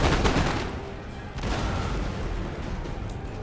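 A massed musket volley crackling across the battlefield in Empire Total War, a dense, loud rolling fusillade that swells again midway and then tails off into a sustained rumble.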